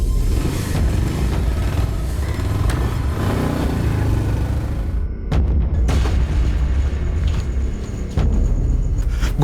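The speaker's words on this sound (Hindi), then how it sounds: "गोलियां चलने की आवाज आई।" Gunfire in a crime TV drama scene: a few sharp bangs cut through a dense, loud rumbling background, with no talking.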